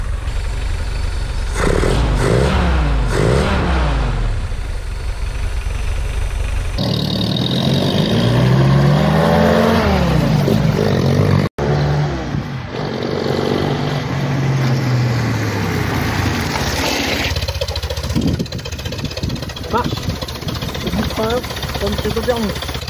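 A restored Jeep engine cranks and fires, revving up and down with rising and falling whines, then rumbles through a road test on the bare chassis before the body is fitted, loud and close throughout.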